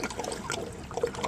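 Water trickles and gurgles steadily through a pool sand filter system, passing from the pump out to the multi-port valve. The sound is close and fairly soft, with no talk.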